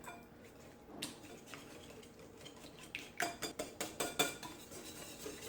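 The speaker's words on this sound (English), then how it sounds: "And then you just want to whisk that up." Egg and vanilla batter is whisked in a bowl, soft at first, then a rapid run of sharp rhythmic clinks from the whisk striking the bowl, fairly faint and close.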